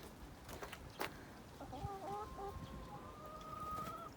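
Rooster and hens on a farm poultry yard, clucking in short tonal calls that run for a couple of seconds over steady background noise, with a sharp knock near the start.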